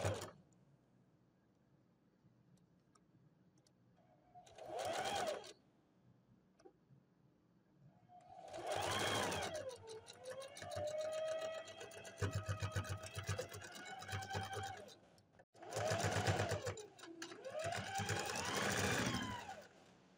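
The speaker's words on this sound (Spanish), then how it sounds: "realizamos una costura y un overlock" Sewing machine stitching fabric for a bodysuit with a straight seam and overlock, running in several separate bursts of rapid mechanical clatter with quiet pauses between them, close up and without speech.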